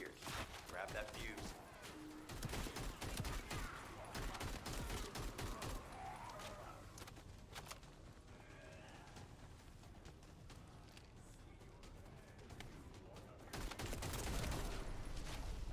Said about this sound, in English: He's just shooting at us, and nobody's shooting back at him.